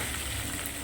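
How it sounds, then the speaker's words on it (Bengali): Potatoes frying in a pan, a dense continuous sizzle heard close up and at an even level throughout the short moment, with no talking. "চলো আলুগুলোকে ভালো করে আগে ভেজে নিই লাল লাল করে।"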